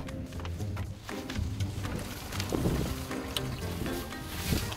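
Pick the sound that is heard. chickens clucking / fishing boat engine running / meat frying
fishing boat engine running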